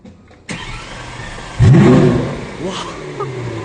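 A Lamborghini Aventador S starts with an abrupt click, then a loud V12 bark and rising flare that settles into a rumbling idle up close. Voices talk softly in the background.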